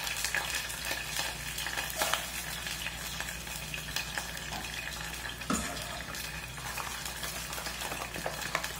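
Rice frying with browned garlic in a Tramontina pan gives a steady, moderate sizzle with occasional scraping and stirring sounds, heard up close and without talking.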